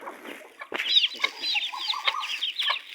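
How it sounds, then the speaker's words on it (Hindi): Chickens and ducks cluck and chatter busily while eating scattered grain, several close bird calls overlapping after a quiet opening, no talking. "ये बड़ी मुर्गियों को दोस्तों और डक्स को मैंने दाना डाल दिया है"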